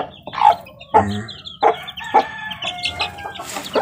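Chicks and chickens in an outdoor yard with repeated sharp chirps and clucks, plus a short crow-like call, all fairly close.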